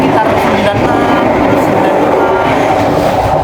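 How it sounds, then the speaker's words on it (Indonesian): An Airlangga passenger train runs at high speed, about 95 km/h, with a loud, steady roar of wheels and rails and a faint rhythmic clatter heard from inside the carriage, with no talking. "Aku baru tahu kalau kereta api Airlangga itu puncak kecepatannya naik"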